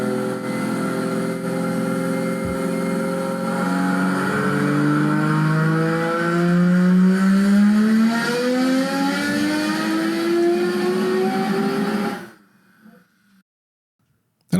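A custom car engine revs hard on a dyno, its pitch climbing steadily through the gears in a loud, continuous run of roughly twelve seconds before cutting off abruptly into near silence.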